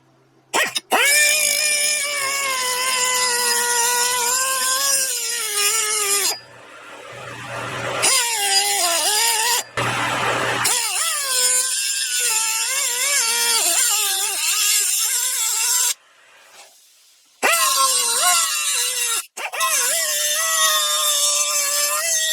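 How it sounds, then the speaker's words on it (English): Sheet metal being cut with a loud, whining power tool while fabricating an exhaust cone for a Honda TL125 motorcycle, running in long continuous passes broken by a few short pauses. "So let's start cutting these lines and see what happens."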